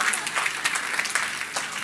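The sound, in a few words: audience applause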